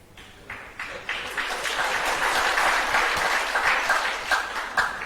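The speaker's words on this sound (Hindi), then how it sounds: "उन्होंने आशीर्वाद समझा, ताली बजाई है उन्होंने" Audience applause at a spiritual discourse camp, steady clapping from many hands that builds after a quiet start and holds fairly loud throughout, with no talking over it.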